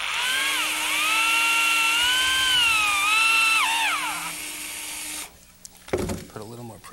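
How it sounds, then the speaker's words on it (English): A power drill bores holes in a pine easel, its whining motor rising and then falling in pitch for about four seconds before cutting off. Afterward a voice and clamp handling noises follow nearby. "I'm going to go ahead and drill these too."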